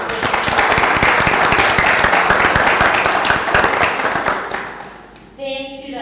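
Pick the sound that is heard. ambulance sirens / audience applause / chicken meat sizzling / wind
audience applause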